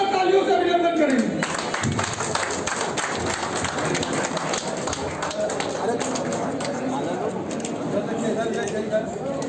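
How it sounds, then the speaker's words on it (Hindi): Crowd applause at a BJP political rally in Bhagalpur, Jharkhand, a dense wash of clapping from many people that rises after a voice over a loudspeaker and continues steadily. "तालियों से अभिनंदन करेंगे"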